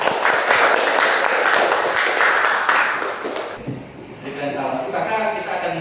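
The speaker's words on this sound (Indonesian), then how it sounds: "Berikan tepuk tangan untuk kelompok 3." Classroom applause for a student group during a school teaching-practice session on charging systems: dense clapping for about three and a half seconds, then thinning into scattered claps with murmuring voices.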